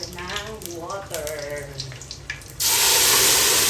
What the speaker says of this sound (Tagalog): lalagay na po tayo ng water